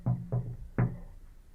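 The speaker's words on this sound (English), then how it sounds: "that didn't stop her from knocking on the super's door" Knuckles rap on a building superintendent's door, three close, firm knocks: two quick ones, then a brief pause before a third, each with a short woody ring, heard alone.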